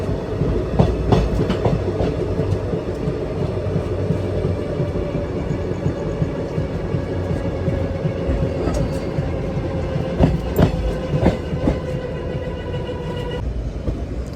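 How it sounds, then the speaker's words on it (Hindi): A passing train on the railway, heard from aboard a moving passenger train on the Bhopal Express, rumbles loudly and steadily with clickety-clack wheel beats and scattered metallic clanks throughout. "अभी फिर से ट्रेन की स्पीड स्लो हो गई है, कोई ट्रेन पास हो गई है।"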